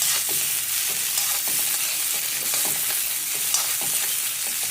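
Okra roasting in a small amount of oil in a pan: a continuous, fairly loud crackling sizzle with faint stirring movements throughout and no voices.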